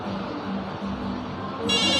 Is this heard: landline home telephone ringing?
yes